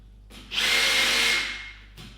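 A Makita cordless rivet gun whirs once for about a second as it sets a rivet, a close, smooth motor burst that rises and tails off, with a faint click after.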